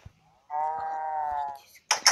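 A single drawn-out cow moo in a farming video game sounds clear and close, followed by two brief noisy bursts.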